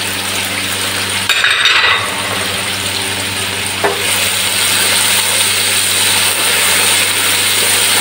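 Seasoned tilapia being stirred in a pan for sweet and sour tilapia, a steady close sizzle of frying with a brief louder scrape of stirring early on, no voices.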